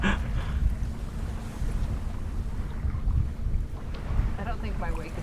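A sailboat moving at about 3 knots on Kentucky Lake near Grand Rivers, with steady low wind rumble and water wash filling the scene and occasional faint voices in the background.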